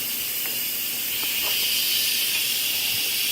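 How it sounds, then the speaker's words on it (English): Hash browns fry in a pan with a steady, loud sizzling hiss that holds evenly throughout, with faint clicks and knocks underneath and nobody speaking. "am frying up some hash browns to go with it"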